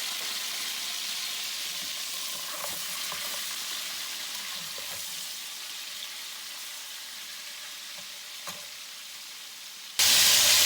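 Meat and spices fry in a pot for Peshawari pulao, giving a steady, moderate hiss with a few light pops. A louder burst of sizzle starts right at the end.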